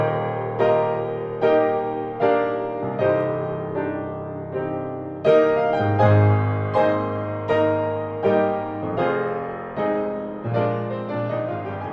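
Solo piano plays a left-hand accompaniment of alternating low octaves and chords in 4/4, in a steady repeating rhythm with a melody on top, clear and close.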